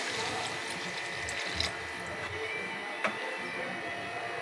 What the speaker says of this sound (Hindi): बस 1 प्याली भर के हम इस पे पानी ऐड करेंगे